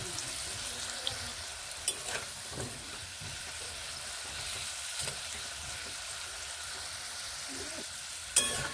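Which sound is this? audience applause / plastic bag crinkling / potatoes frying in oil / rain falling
potatoes frying in oil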